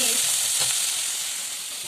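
Rice and spices frying in a pan for pilau give off a continuous, even hiss of sizzling, close and fairly loud, with no talking.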